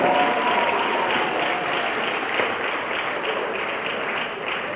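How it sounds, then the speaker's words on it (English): An audience at a school district student advisory event applauds seniors with sustained, even clapping that holds steady for several seconds before tapering slightly at the end. "Let's give our seniors another round of applause."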